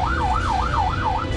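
A police car siren wails loudly and close by as the car escorts a hospital vehicle carrying a donor heart through Xiamen traffic to the airport. The tone sweeps up and down in regular, rapid cycles with no speech.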